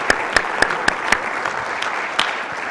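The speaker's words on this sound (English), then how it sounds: "I appreciate if everybody join me in a round of applause thanking them for their time this morning" A handful of distinct, sharp claps ring out in quick rhythm at a symposium panel session, then thin into a few scattered, softer claps from a small audience.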